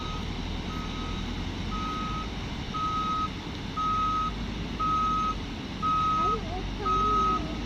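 A truck sounds a steady run of regular reversing beeps over a loud, continuous engine rumble while clearing flood-washed logs after flooding in the Black Sea region, with people talking nearby.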